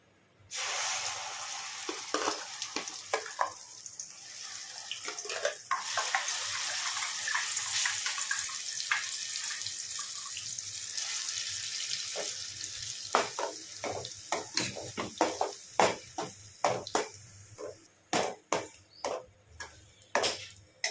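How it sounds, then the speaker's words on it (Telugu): Ground spice paste fries in hot oil with a loud, bright sizzle that flares as the paste hits the pan, then settles into steady crackling, finishing with a run of sharp stirring scrapes and clatters. "ఇప్పుడు ఇదే నూనెలో మనం మిక్సీకి వేసుకున్నాం కదా,"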